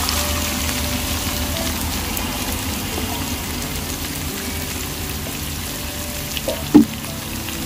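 About a kilo of chopped onion frying for pithla gives a steady rain-like hiss in a pan, even and continuous, with a single sharp utensil knock near the end.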